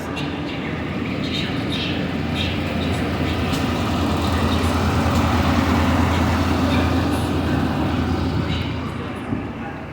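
A freight train rumbling past for about ten seconds: a steady, loud low drone of heavy wagons rolling on rails, with faint squeals and clatter riding over the top.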